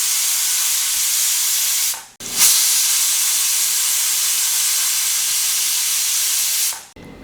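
Steady loud hiss of steam escaping a pressure cooker with Kerala-style beef curry inside, running continuously with two brief cut-offs where the hissing drops and restarts.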